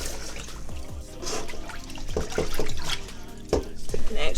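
Rice is rinsed in water before home canning, with sloshing, splashing and dripping in short bursts, close and moderately loud, while a person talks over it.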